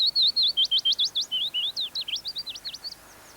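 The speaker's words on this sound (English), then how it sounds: "Only in larger gardens are you likely to hear the song of willow warblers" Willow warbler song in a British garden: a clear, close run of sweet descending whistled phrases, about twenty notes fading softly toward the end, heard alone with no other sounds.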